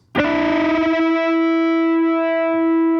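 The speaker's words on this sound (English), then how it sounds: "So here's what happens if you just bend that 3rd string but leave the 2nd string alone" An electric guitar sounds a bent third-string note against the unbent second string, one sustained, slightly distorted chord whose clashing pitches ring and beat together before slowly fading.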